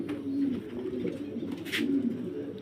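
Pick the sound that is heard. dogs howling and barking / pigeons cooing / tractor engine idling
pigeons cooing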